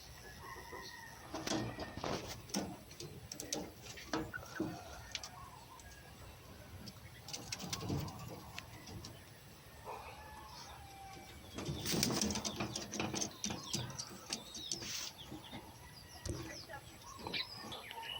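Pet pigeons coo and flap around their loft in a series of soft, irregular bursts with wing flutters, heard faintly at a moderate distance, with other bird calls mixed in.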